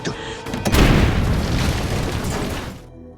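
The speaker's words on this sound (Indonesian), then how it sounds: "ia pun nekat membuka pintu dan terjadilah ledakan" A loud explosion in an action film booms out after a door is opened in a veteran hospital, a deep rumbling blast that sustains for a couple of seconds before cutting off abruptly.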